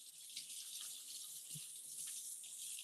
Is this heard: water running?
yes